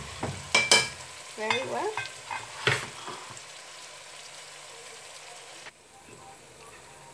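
Onions fry in a pan for a tomato stew, a steady soft sizzle with a few louder stirring scrapes early on, then quieter frying; a brief spoken phrase comes in partway through.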